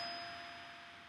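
A doorbell ringing indoors, a single faint chime that fades away quickly with no talk.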